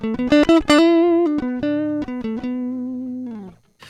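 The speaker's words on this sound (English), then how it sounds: "a too clean guitar part that was just recorded from the guitar directly into Studio One" A clean, dry electric guitar recorded directly into Studio One plays a short melodic phrase of plucked single notes, bright and uncolored, ending with a sustained note that fades.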